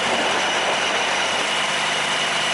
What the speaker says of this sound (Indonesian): Terlihat roda lokomotifnya selip teman-teman